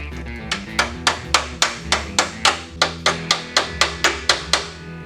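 Hammer blows strike a Tonka toy truck in a steady, evenly spaced series of about fifteen sharp metallic knocks, loud and close, with no talking.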